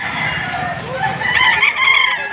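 Five-month-old young rooster at a chicken market in Padre Garcia, Batangas, crowing loudly and close with clucking from other fowl around it.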